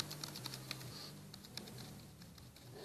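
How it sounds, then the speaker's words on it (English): Quiet typing on an Anker Bluetooth Ultra Slim keyboard with non-clicking keys, a soft, rapid patter of keystrokes heard close up and low in level throughout. "They're not completely bone silent, but they're not clicking keys."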